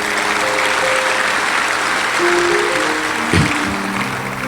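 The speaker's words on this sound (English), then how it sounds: "You don't have to applaud." Audience applause fills a comedy show, a steady wash of clapping from a large crowd that holds for several seconds with a brief louder swell near the end.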